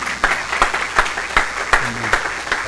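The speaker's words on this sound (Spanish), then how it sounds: "Aplauso a nuestro Señor." A church congregation breaks into applause after a prayer, with distinct rhythmic claps repeating roughly every third of a second over a dense bed of clapping.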